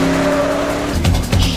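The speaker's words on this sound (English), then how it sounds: "So they have themselves a little car chase until the Ventura douche nails them in a corner." Cars racing through a film car chase, with engines roaring and tires squealing loudly in a couple of sharp bursts near the end.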